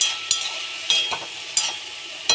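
A spatula stirs salted vegetables in a cooking pan, making four or five sharp scraping clacks spaced about half a second apart over a soft, faint sizzle.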